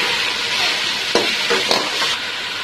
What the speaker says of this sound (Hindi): इसी तरह से मैं चिकन को लाइट ब्राउन कलर आने तक पकाऊंगी